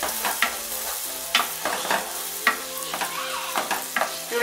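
Garlic and onion frying in a pan for chicken basquaise, a steady sizzle broken by repeated scraping stir strokes at a fairly regular rhythm, close and alone with no talk.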